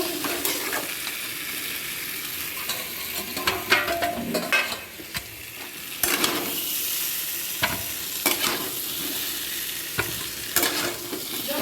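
Fried potatoes seasoned with salt and turmeric are lifted out of a sizzling pan, with constant hot-oil sizzle under repeated scraping and clinking of a utensil against the pan, close and steady, no one talking.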